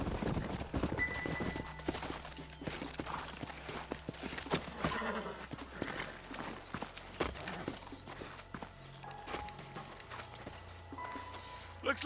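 Horses in the video game Red Dead Redemption, with clip-clop hooves and snorts amid game sound effects and talking voices.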